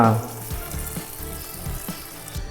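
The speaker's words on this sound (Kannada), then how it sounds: "ಈ ಒಗ್ಗರಣೆನ ನಾವು ಮಾಡಿದಂಥ ಪಾಯಸಕ್ಕೆ ಹಾಕೊಂಡು ಬಿಡೋಣ" Hot tempering poured into avalakki payasam gives a sharp sizzle at the start, followed by a steady, moderate crackle and hiss with faint stirring.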